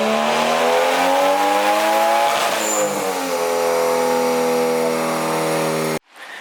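A boosted Nissan 350Z engine makes a baseline pull, revving hard and climbing steadily in pitch, close and loud, before cutting off abruptly near the end.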